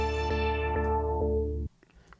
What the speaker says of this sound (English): I used an auto filter with some filter automation to filter the sample down